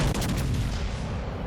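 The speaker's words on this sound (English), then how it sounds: "That guy's firing AP." Heavy naval guns boom from an enemy battleship in the naval combat game World of Warships Legends, a dense loud burst of rumbling gunfire that fills the moment without speech.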